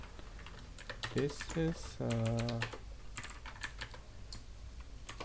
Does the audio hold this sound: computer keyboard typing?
yes